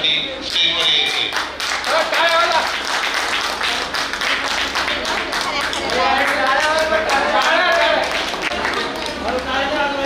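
Audience at a school alumni reunion for a tenth-standard class claps loudly and steadily, dense continuous applause filling the hall without a break.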